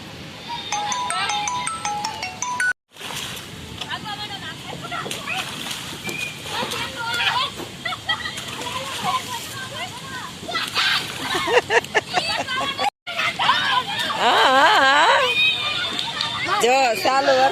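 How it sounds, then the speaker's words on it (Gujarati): Children splashing and jumping in rain-filled puddles at a garden in Bhavnagar during rain, with intermittent sloshing splashes under excited children's voices and talk throughout. "તમે જો પાણી ભરાણું છે, છોકરાઓ બધા કૂદકા મારે છે પાણીના."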